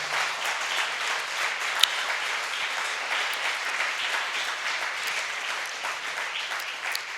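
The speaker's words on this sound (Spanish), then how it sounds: "Dale un aplauso, pues." A church congregation applauds during a Spanish-language sermon, steady, even clapping from many people heard at moderate distance, continuing without a break for several seconds.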